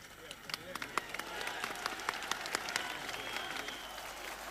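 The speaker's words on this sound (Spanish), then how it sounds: "Como ustedes pueden escuchar de fondo, el aplauso de esta gran cantidad de público" Large crowd applauding after the Argentine president's speech in 1984, a steady wash of clapping with scattered louder claps, heard from a distance at a fairly low level.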